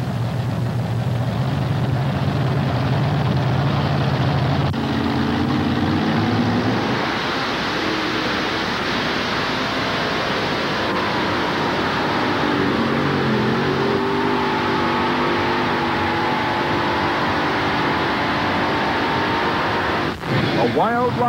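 Heaviest-class modified pulling tractors roaring at full throttle during a 1987 tractor pull at Bowling Green, a loud sustained engine drone with shifting pitch, heard under an announcer's commentary.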